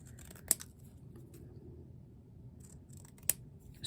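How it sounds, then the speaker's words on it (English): Scissors trim a square of foam for a homemade stamp, giving two sharp, quiet snips a few seconds apart over soft background hiss. "I am going to trim down this square."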